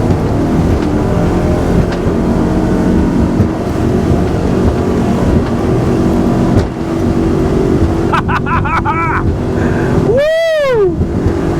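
A Chris Craft 28 Corsair Heritage Edition motorboat with new 2021 motors runs at wide open throttle, a loud, steady engine roar with rushing water throughout and brief tonal sweeps near the end.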